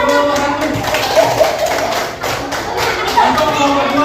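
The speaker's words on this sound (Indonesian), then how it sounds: "Tepuk tangan untuk kelompok satu" Children in a fourth-grade classroom clap for a group of classmates, a lively, uneven patter of small hands with some thudding taps mixed in, steady throughout and fairly close.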